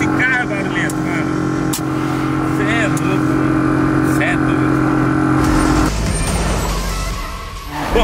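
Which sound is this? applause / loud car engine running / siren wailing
loud car engine running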